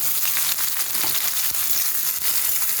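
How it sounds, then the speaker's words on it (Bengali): Chopped onion and potato pieces frying in hot oil, a constant close hissing sizzle with a few soft stirring knocks scattered through it, with no talking. "তেলটা গরম হয়ে গেছে এখন আমি এর মধ্যে দিয়ে দেবো পেঁয়াজ কুচানো তারপরে দিয়ে দেবো আলুর টুকরোগুলো"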